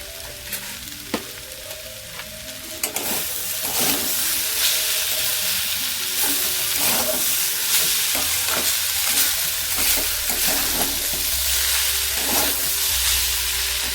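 A batter mixture for a pakora-style snack frying in a pan, with a constant bright sizzle and hiss and a run of spatula scrapes and taps over it, close and fairly loud, without speech.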